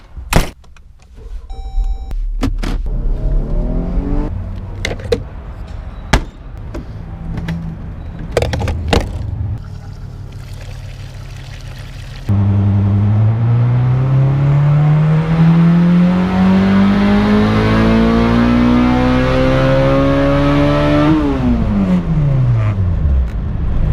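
Turbocharged B-series engine revving hard, first several sharp blips over a steady idle, then one long climbing pull up to high revs before the pitch drops quickly, loud and close.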